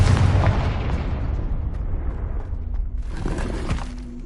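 Booming blast of a Confringo spell in Hogwarts Legacy, a heavy explosion up front that rumbles and fades, followed by a second softer burst of debris and crackle.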